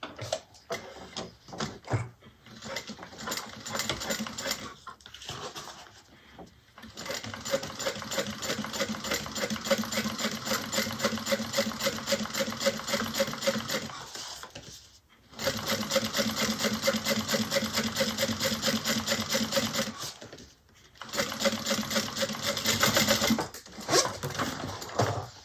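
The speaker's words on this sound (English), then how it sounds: "we're top stitching onto the exterior" A sewing machine top stitches a bag's lining onto its exterior, running in long rapid bursts separated by short pauses, close and steady with no speech.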